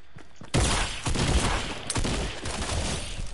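Rapid bursts of rifle gunfire from a three-round burst weapon in the video game Fortnite, loud and dense, with sharp repeated shots crackling for several seconds without speech.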